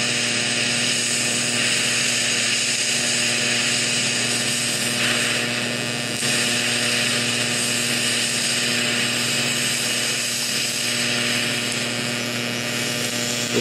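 DC-mode welding with silicon bronze filler gives a steady, close broadband hiss and buzz with a constant electrical hum running underneath, unbroken for the whole stretch.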